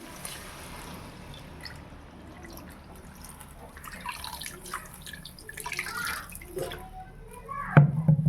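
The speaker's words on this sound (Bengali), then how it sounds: "এবার দিয়ে দেবো পানি।" Water poured into a pot of mutton and potato curry, a soft steady splashing trickle that swells toward the end and closes with a brief louder gush.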